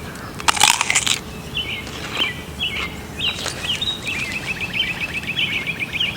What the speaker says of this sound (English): This is so crunchy.